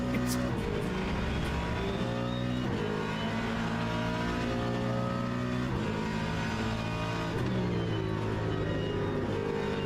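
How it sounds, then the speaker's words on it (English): A pack of hypercars roars past at Spa-Francorchamps in a Le Mans Ultimate racing game, engines droning loud and steady with rising and falling gear-change whines throughout, near and continuous. "That is a pack of hypercars."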